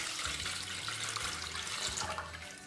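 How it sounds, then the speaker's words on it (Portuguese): Half a litre of water poured into the bottom of an aluminium couscous steamer pot, a steady splashing stream with a low hollow resonance that rises as the pot fills. "aqui no fundo da minha cuscuzeira, eu vou colocar 1/2 litro de água"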